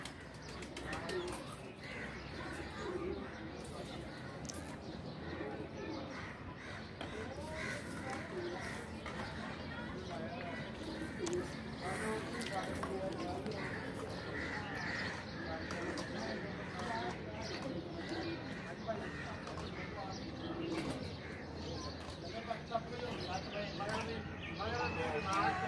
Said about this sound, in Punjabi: ਟੈਡੀ ਕਬੂਤਰ